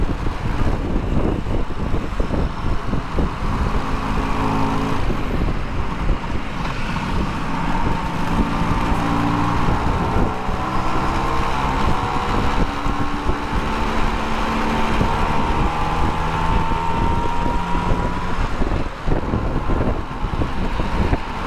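A Vespa scooter carrying two riders cruises steadily along a road at moderate speed, its engine droning continuously beneath strong wind buffeting, with no talk.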